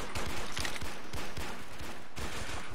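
Shotgun fired repeatedly in the video game Warmode, a run of sharp, loud blasts at an uneven rhythm, close and clear with no talking.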